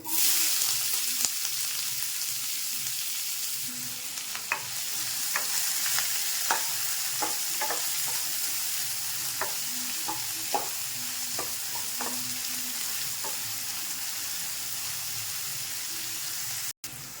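Onions and curry leaves fry in hot oil for a Telugu-style drumstick curry, a steady sizzle running throughout while a utensil stirs and scrapes the pan in a string of sharp, irregular clinks, close and alone without talk.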